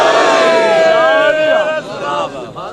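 A crowd at a religious Urdu sermon gathering chanting slogans together, loud massed voices calling out in unison with rising and falling pitch, close and filling the space.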